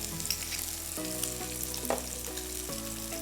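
Small onions and garlic frying in hot oil for goat leg soup, a steady close sizzle with light stirring, no voices.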